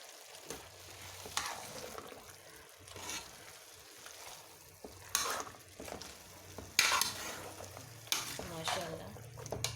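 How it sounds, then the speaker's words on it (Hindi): Potatoes with fenugreek leaves and peas are stirred in a frying pan, a soft sizzle under repeated scraping strokes of the spoon, moderately close and fairly quiet. "अब हमने इसको अच्छे से मिक्स कर लेना है।"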